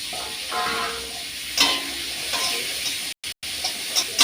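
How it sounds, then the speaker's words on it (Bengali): Carrots fry in hot oil for chow mein, giving a loud, steady sizzle with stirring scrapes, close up, broken by a brief cut in the sound. "বন্ধুরা এর তেল দিলাম, দিয়ে গাজর আর এটা ভেজে নিই"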